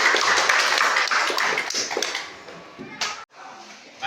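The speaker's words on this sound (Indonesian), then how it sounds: "Kita berikan aplaus." Schoolchildren in a classroom clap together in a brisk burst of applause that thins out and stops, followed by a few scattered taps.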